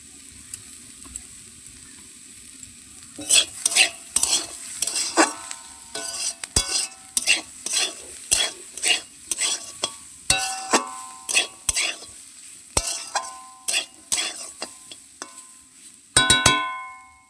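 A spatula or spoon scrapes and knocks rhythmically against a pan while turmeric and spices fry with a soft sizzle, the metallic taps coming in uneven bursts.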